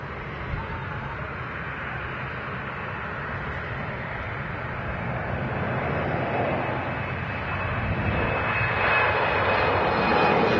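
An airliner takes off at Manchester Airport, its engines giving a steady, broad roar that swells gradually louder toward the end, heard from a distance with no talk over it.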